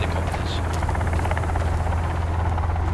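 A helicopter in the survival game Sons Of The Forest keeps up a loud, steady rotor drone with a rapid thudding pulse throughout, close and unbroken.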